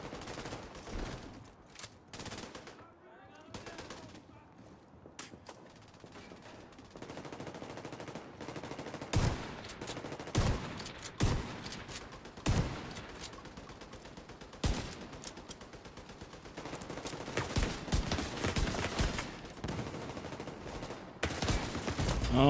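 Gunfire in the video game The Division 2: bursts of automatic and single shots crack repeatedly over a dense layer of game noise, some shots sharp and loud, and the firing grows heavier toward the end.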